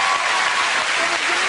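A television studio audience breaks into applause, a loud, dense, continuous burst of clapping with faint crowd murmur underneath.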